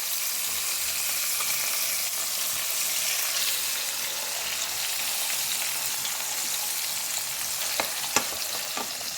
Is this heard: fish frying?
yes